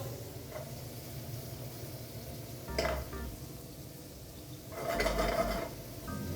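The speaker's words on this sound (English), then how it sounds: "Now we're gonna let this sear both sides." Pork filet seasoned with salt and pepper sears in a pan, giving a faint, low sizzle broken by two short louder bursts of clatter and spitting.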